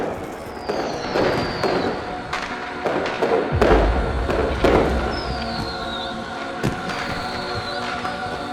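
Several fireworks bang and crackle at moderate distance, with whistling rockets streaking up between the bursts and a low thump midway.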